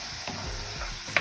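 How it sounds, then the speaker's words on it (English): Seasoned ground beef is stirred in a pan for one-pan Santa Fe tacos, giving a brief low scraping rustle over a soft sizzle with a sharper clink near the end, close and fairly quiet. "I'm just gonna give it a stir, making sure everything is completely blended in."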